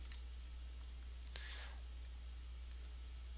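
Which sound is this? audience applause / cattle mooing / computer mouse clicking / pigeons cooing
computer mouse clicking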